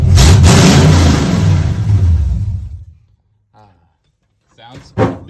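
A K20 truck engine gives one last big rev: a loud, close roar that winds down and cuts off after about three seconds, followed by quiet with faint squeaking and a brief thump near the end.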